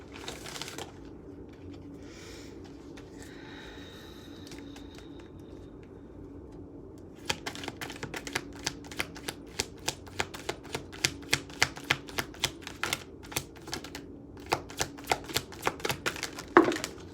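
Slick laminated tarot and oracle cards being shuffled close up, a quiet start giving way to a long run of rapid, crisp riffling snaps with no talking.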